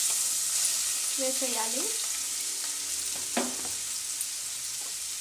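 Carrot pieces sizzle in hot oil in a pan, a soft continuous frying hiss with a few stirring scrapes and clinks, while someone speaks briefly over it.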